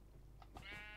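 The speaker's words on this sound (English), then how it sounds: "Sheep!" A sheep bleat from a pet store building video game, a single short wavering call rising out of a faint background hum, fairly quiet and brief.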